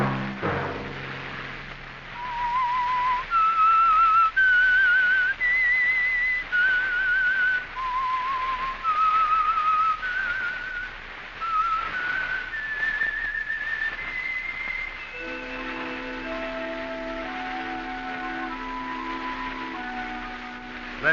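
A whistled theme tune for The Whistler radio mystery show plays as a clear, melodic solo lasting about fifteen seconds, steady and prominent, then gives way to a sustained musical chord.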